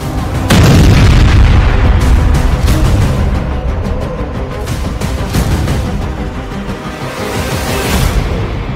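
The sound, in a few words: explosion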